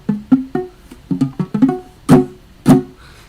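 A bar chord played badly on guitar: about a dozen short, choked strums, buzzy and muted, with uneven gaps and a couple of louder hits near the end, played alone.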